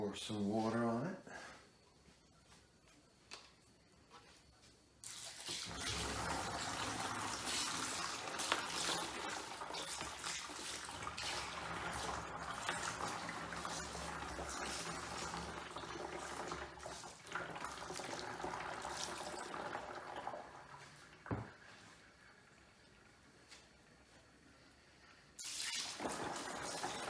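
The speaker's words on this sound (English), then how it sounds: "Pour some water on it." Water pours steadily onto wet tumbled rocks after the final polishing stage, a continuous splashing rush lasting about twenty seconds, with brief clinks of stones and handling noise at the start and end.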